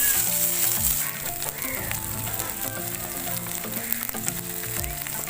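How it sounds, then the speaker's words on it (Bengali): Peanuts frying lightly in a pan for a Bengali singara filling give a steady close sizzle, with crackles and soft scraping stirs throughout, no one speaking. "বাদামটা আমি হালকা ভেজে নেব।"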